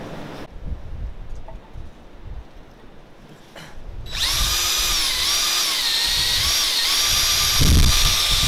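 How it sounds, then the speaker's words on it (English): A 3-inch hole saw bites into 1/4-inch steel plate for a forge burner, starting midway after a quiet stretch as a loud, steady, close metallic whine that holds to the end. "Now I need to drill a hole in this 1/4-inch plate with this 3-inch hole saw."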